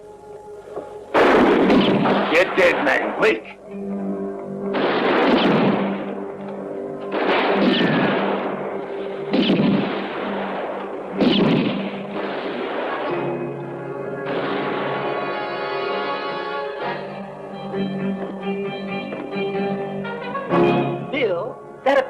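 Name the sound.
gunfire in a western shootout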